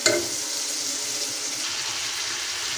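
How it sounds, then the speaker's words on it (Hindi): Chicken, tomatoes and whole spices sizzle in a pan for biryani, a steady, even hiss with no break. "इसको हम 3 से 4 मिनट इसी तरह हम इसको भून लेंगे अच्छी तरह ताकि टमाटर जो हैं वो हमारे अच्छी तरह सॉफ्ट हो जाए।"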